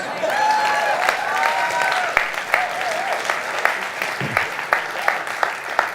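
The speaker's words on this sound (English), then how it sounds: "I want another round of applause for Adam for singing all those lyrics." A church congregation applauds a singer, a moderate wash of clapping with a few scattered cheers early on, thinning out into sparser, distinct claps toward the end.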